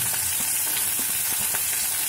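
Chopped onion and capsicum fry in hot oil for a soya chilli dish, giving a steady, close sizzle with faint stirring scrapes and no voice.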